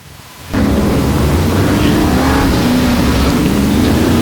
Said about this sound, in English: When we get them all out here running together, it is an awesome sound.